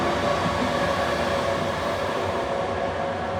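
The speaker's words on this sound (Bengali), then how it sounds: "Electric train." An electric train rumbles past with a loud, steady roar and rolling wheel noise that holds evenly throughout, heard at close range.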